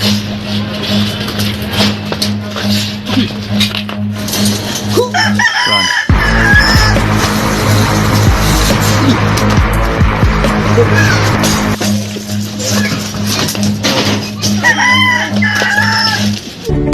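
Chickens cluck and a rooster crows loudly, close by, in repeated bursts over a constant hum of motors, while people talk in between.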